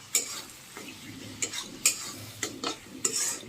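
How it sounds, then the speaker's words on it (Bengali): Spice masala for a spicy chicken dish stirred in a pan, a spoon scraping and clacking in irregular strokes over a soft background sizzle, close and fairly quiet. "ভালো করে মশলাটাকে কষিয়ে নিচ্ছি"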